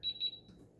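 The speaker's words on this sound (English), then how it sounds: "Once you hear those beeps, hold down power a couple seconds" Two quick high-pitched electronic beeps from an Omni Print 330 TX Plus printer powering up sound close by, followed by faint low background hum.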